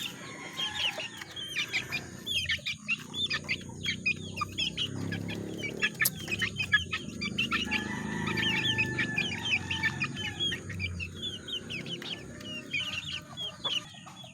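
A flock of chickens and chicks clucks and peeps continuously at close range, with soft, overlapping calls and occasional louder clucks over low background rustle.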